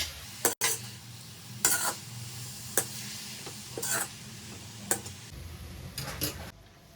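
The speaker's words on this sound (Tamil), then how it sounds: "கொஞ்சம் லைட்டாக அப்படியே கொஞ்சம் சுருங்குற அளவுக்கு வதக்குனா போதும்" Grated carrots being sautéed in a pan for carrot halwa, giving a soft continuous sizzle broken by several distinct scraping stirs and light clinks of the spoon against the pan, close and moderately quiet.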